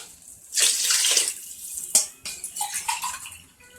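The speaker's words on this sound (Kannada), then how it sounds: "ಈಗ ನೀವು 2 ಪಾವು ಅಕ್ಕಿಗೆ ಈ ಲೋಟದಲ್ಲಿ 3 ಲೋಟ ನೀರು ಹಾಕ್ಕೊಬೇಕು" Water poured from a tumbler into rice in a pressure cooker pot, several splashing pours in bursts, close and fairly loud with short pauses between them.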